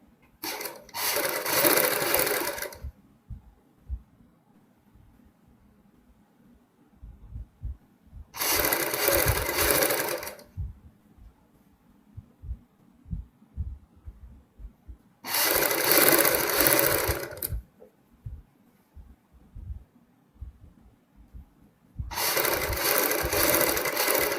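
A sewing machine runs along a kurti's piping seam in four separate bursts of a few seconds each, with a ratcheting mechanical whir, divided by quieter stretches of faint handling.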